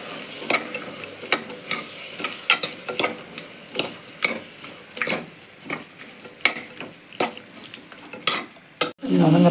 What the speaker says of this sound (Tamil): இந்த தக்காளி கொஞ்சம் நல்லா வதங்கட்டும்.